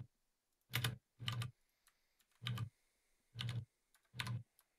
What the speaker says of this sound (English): Sorry for my keyboard.